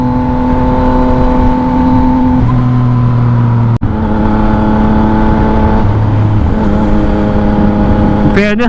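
A Yamaha XSR 900 motorcycle engine holds steady harmonic drones while riding on an open road, its pitch shifting through gear changes, with a brief dropout partway and a rising rev blip near the end.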